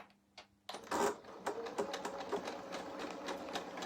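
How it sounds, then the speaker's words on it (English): A sewing machine stitching appliqué onto fabric starts up after a brief quiet moment, then keeps up a continuous, fairly loud mechanical whirr with rhythmic needle chatter. "you guys can now see how I am sewing"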